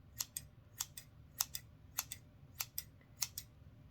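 Scissors snip in steady paired cuts, six crisp double clicks spaced about half a second apart, close and quiet over a low background hum in a calm ASMR session.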